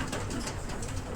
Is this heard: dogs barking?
no